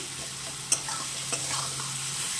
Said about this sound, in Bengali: ভালো করে কষিয়ে নেব যেন সব কিছু মিশে যায়, টমেটোগুলো যেন মিশে যায়